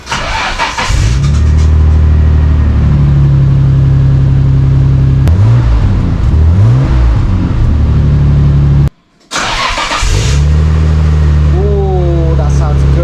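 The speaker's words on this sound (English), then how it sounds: "with everything done now with the old exhaust off and the new exhaust sound" Loud Nissan Skyline R32 GT-R new exhaust starting and revving, with deep rumbling idle, rising and falling revs, a brief cut, then another start and rev.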